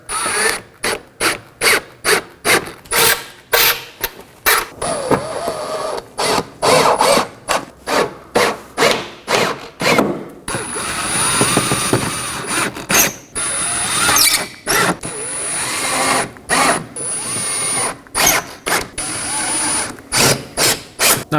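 T15 screws are tightened into the front fender liner of a 2018-2024 Chevrolet Equinox with a hand tool. The result is a close, rhythmic run of scraping and ratcheting bursts separated by brief pauses, repeated many times.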